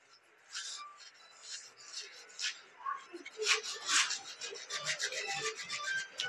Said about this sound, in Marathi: कोथिंबीर, ओवा जरा हातावर चोळून घ्यायचा.